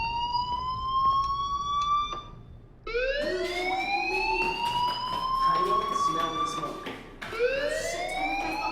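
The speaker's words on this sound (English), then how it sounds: "Hey, do you hear that fire alarm? That means you should be outside." Fire alarm ringing in the video game Life is Strange, a loud repeating electronic wail with rising sweeps, briefly pausing then starting again, over faint background game sound.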